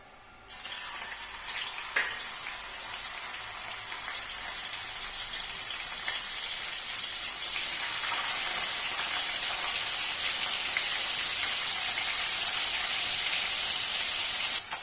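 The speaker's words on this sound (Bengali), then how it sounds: "এই তেলের ভেতরে আমি মাছগুলো ভাজবো" Fish frying in hot white cooking oil gives a loud, steady crackling sizzle that starts abruptly as the fish goes in and swells stronger over the following seconds, with no talk over it.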